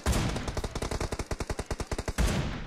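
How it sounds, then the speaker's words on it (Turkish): Sustained rapid gunfire in PUBG Mobile, a long automatic burst of evenly spaced loud shots, close and dominant, with heavier blasts at the start and end. "Arkadan bana biri sıkıyor."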